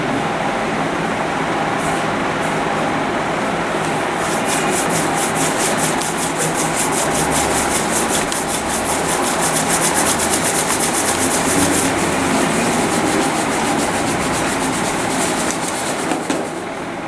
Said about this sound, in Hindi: दोनों हथेलियों को रगड़ के आँखों पर लगाकर फिर आंखें धीरे धीरे खोलिए।